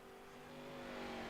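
A damaged race car in a Velocity Racing League race at Sonoma pulls away again after stopping off track, its engine note rising steadily as it accelerates over a brief moment, fairly faint.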